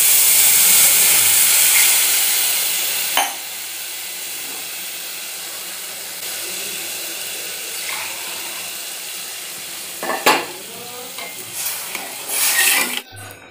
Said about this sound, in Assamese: ইয়াতে মই দুগিলাচ পানী দিম।